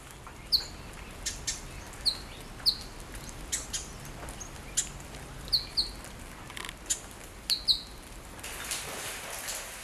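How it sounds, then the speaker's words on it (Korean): Several birds chirp and call in an Australian forest, brief bright tweets scattered at irregular intervals over a steady hiss of rain and ambient wash, moderately near, with no talking. "인공의 빛과 소리가 닿지 않는 호주의 대자연에는 빗소리와 새소리뿐입니다."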